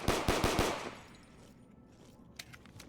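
Automatic gunfire in a Black Ops 3 TranZit town map: a quick burst of four loud, close shots in the first half-second, then quieter ambient game noise, with a couple of faint later pops.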